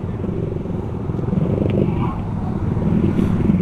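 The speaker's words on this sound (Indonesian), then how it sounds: "awas, ono motor nyebrang" A motorcycle engine drones steadily and close, likely the rider's own bike, amid continuous wind rumble on a mountain road ride; the crossing motorcycle cannot be picked out from it.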